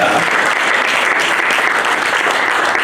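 A church congregation bursts into loud, sustained applause for the Lord, a dense unbroken wash of clapping filling the hall from start to finish.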